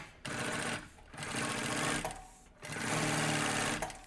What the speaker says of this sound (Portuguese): Só vou passar uma costura em cima e embaixo.